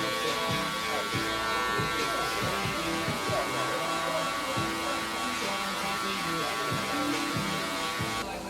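Electric hair clippers fitted with a 3 guard buzz steadily while cutting a fade, a close, continuous motor drone with slight shifts as the blades move through hair.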